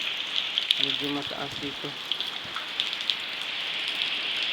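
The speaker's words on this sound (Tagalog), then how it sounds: "Kaya matalsik ng ulan." Rainy-season rain in Sogod, Southern Leyte, falling steadily and splashing on a nearby surface with a constant hiss and scattered drips; someone speaks briefly early on.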